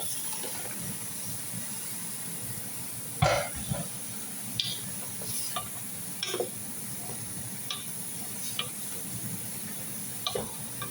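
Garlic, onion, carrot and tomato frying in a pan give a steady faint sizzle, broken by occasional sharp clinks and scrapes of stirring.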